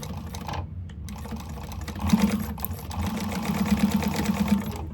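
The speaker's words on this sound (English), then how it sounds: "we're going to go ahead and sew this together" A sewing machine stitches the short ends of candy bag fabric together, its steady rapid needle chatter running close and continuous, rising slightly louder partway through.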